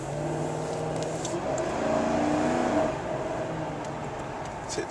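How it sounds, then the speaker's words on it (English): A Mercury Grand Marquis GS, the last of the Panther cars with 22k miles, accelerates down the road, its engine note rising smoothly as a steady, moderate rumble with no talk over it. "No problem with the engine waking up and moving the car down the road."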